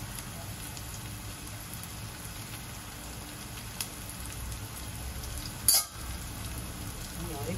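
Curry leaves hit a pan of frying onion, giving a steady close sizzle with one brief, sharper hiss and spatter as they drop into the hot oil.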